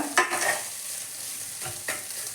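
Moringa leaves and egg fry and sizzle in a pan over a flame while being stirred, giving a steady hiss with a few scraping strokes near the start and near the end, with no voices.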